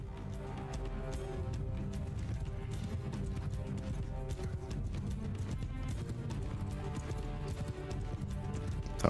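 Horses of mounted horse archers gallop in a Mount & Blade II: Bannerlord battle. Dense, continuous hoofbeats drum loudly throughout, mixed with steady battle din.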